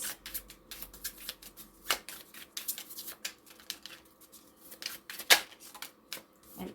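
Tarot cards being shuffled by hand, giving a close, quiet run of crisp riffling flicks and soft slaps in irregular bursts with no speech over them.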